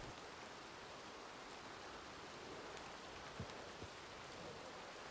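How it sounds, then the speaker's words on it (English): Soft, steady patter of rain in a video game, distant and even, a diffuse hiss with a couple of faint drips standing out. "Can we go inside out of this rain?"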